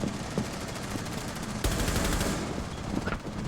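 Automatic gunfire in the Rainbow Six Siege video game rattles in rapid, continuous bursts, loud and close, with a short break and a renewed stream of fast shots partway through.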